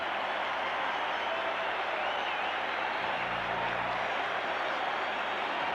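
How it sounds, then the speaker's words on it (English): Arena crowd at Maple Leaf Gardens applauding Börje Salming of Sweden at a 1976 Canada Cup hockey game, a distant, even wash of clapping and crowd noise holding steady throughout. "you can hear the applause here at Maple Leaf Gardens for Börje Salming"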